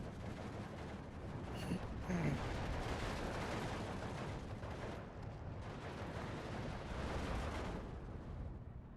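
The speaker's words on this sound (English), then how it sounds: "Nice bombing strike there." Bombing strike in the World War II strategy game Steel Division 2 on the Orsha North map, a dense continuous roar of rumbling explosions and gunfire under steady battle noise.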